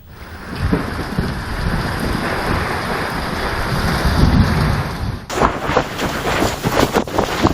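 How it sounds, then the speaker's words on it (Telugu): Heavy rain with gusty wind and lightning in Telangana roars continuously with deep rumbling and gusty surges, then the texture shifts abruptly to choppier, splashing downpour near the end. "ఈదురుగాలులు, మెరుపులతో కూడిన వర్షంతో ఒక్కసారిగా మారిన వాతావరణం"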